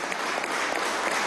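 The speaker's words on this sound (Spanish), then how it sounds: "Vamos a un aplauso desde aquí, nuestra selección nacional." A large gathering applauds the national team, a loud, dense and unbroken burst of clapping that sounds close and fills the short moment.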